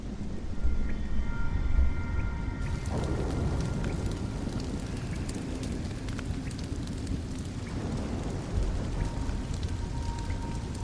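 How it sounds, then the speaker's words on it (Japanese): Steady, dense rain pours down in the Nioh game world, a continuous broadband hiss that stays loud and unbroken from start to finish with no talk over it. "そして雨が降っている"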